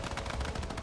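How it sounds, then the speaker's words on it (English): Rapid gunfire in the Fortnite battle royale game strikes the player, a dense, steady stream of close, loud shots with no gaps over a brief moment. "Oh, I'm getting shot"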